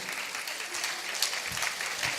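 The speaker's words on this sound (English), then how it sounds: "Please give a round of applause to each and every one of you" An audience applauds continuously, a dense wash of clapping that holds steady throughout without any talking.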